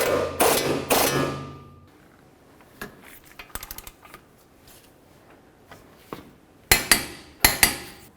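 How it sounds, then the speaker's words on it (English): Metallic clanks and ratcheting clicks from a wrench snugging the lower ball joint nut on a 2006-12 Ford Fusion front lower control arm, with a loud burst at the start, scattered taps through the middle and sharp clanks near the end. "Now let's continue on by snugging up the lower ball joint right here."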